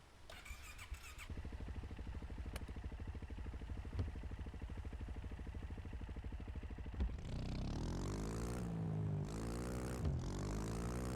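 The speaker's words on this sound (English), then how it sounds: "So let's go ahead and hop on our four-wheeler here." A four-wheeler ATV in Mon Bazou drones steadily at idle and low speed, then revs up with rising and falling engine pitch as it pulls away, loud and continuous without talk.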